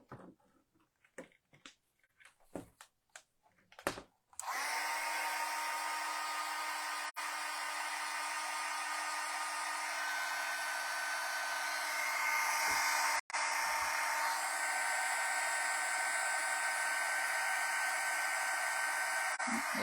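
A few faint taps and knocks, then a heat gun switches on and blows hot air with a loud, steady roar that holds for about fifteen seconds, broken only by brief dropouts.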